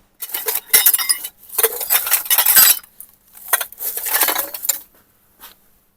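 Glass items found discarded in a rubbish bin clink and clatter as they are handled, a run of loud, close, bright chinks in several bursts with brief pauses between them.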